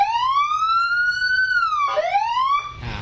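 Custom police-escort style siren fitted to an older Yamaha Nmax scooter, sounding a long rising and falling wail that sweeps repeatedly, close and clear with a low hum beneath.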